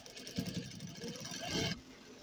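A sewing machine stitches along the edge of a pocket on trousers, running with a low mechanical whir for over a second before stopping abruptly, faint and close, with no speech.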